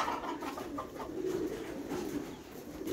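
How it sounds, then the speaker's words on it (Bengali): Domestic pigeons coo softly while being fed at a home, low repeated throaty coos rising and falling over a faint background. "কবুতর খাবার দিচ্ছে"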